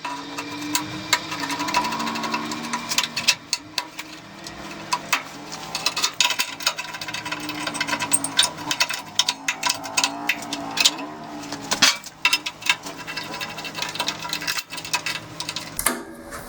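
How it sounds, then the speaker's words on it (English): Homemade clamps are tightened onto steel pieces for a flux core welded fire pit, giving close, irregular metallic clanks, clicks and rattles scattered over steady background noise. "Now, we take our clamps that we made, and we just clamp it down"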